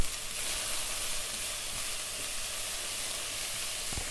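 Rice and vegetables sauté in a saucepan, giving a steady, dense sizzle and hiss of frying that holds evenly throughout, with a faint knock near the end.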